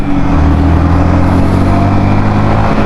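Loud, steady engine drone of a Yamaha XSR 155 motorcycle accelerating in second gear, heard up close over heavy wind rush with a gradually climbing tone.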